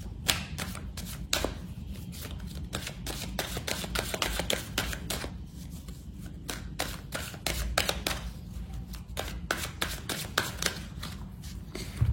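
A deck of oracle cards is shuffled and cut by hand, giving a long run of close, crisp riffling snaps and flicks in quick irregular succession over a soft background rustle, with no voice.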